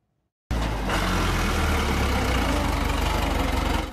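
A tractor engine starts up abruptly and idles loudly nearby, a deep throbbing rumble with a steady pulsing beat.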